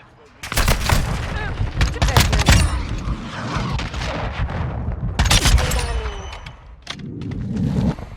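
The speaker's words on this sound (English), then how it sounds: "Friendly cruise missile inbound" Cruise missile strike in a Call of Duty match: a run of loud booms and heavy blasts comes in close succession, rumbling explosions layered with gunfire crackle, fading briefly before another burst near the end.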